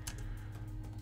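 Quick keystrokes on a computer keyboard, a short run of light, close clicks in an even rhythm over a steady low hum.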